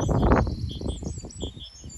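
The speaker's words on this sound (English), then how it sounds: "and the birds are chirping." Outdoor birdsong in Amsterdam, with a few high, clear chirps and whistles over muffled low background rumble and movement, fairly faint and sparse.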